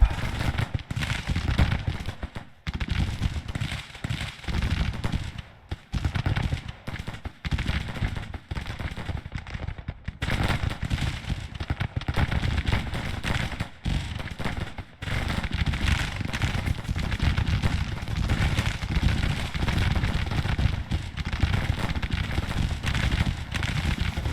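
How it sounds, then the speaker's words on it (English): Cannon and artillery fire in the Civil War strategy game Grand Tactician, a steady stream of distant booms and crackling blasts layered over a dense battle din that continues almost without pause. "Guns are opening up."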